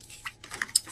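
Cards of an Animal Wise Tarot deck being shuffled, giving a few brief, light papery flicks and rustles at close range, quiet and alone without speech.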